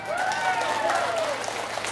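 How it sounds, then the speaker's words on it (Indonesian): An audience at a Bugis-language Maulid sermon gathering in Pinrang applauds, a soft, moderately distant patter of clapping beneath a sustained tonal whine and some crowd voices. "Tepuk tangan kita."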